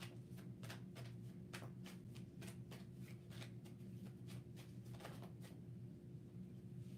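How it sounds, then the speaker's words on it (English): Tarot cards are shuffled in a steady run of soft riffling flicks, quiet and close over a constant low electrical hum. "One more shuffle, Ruffle."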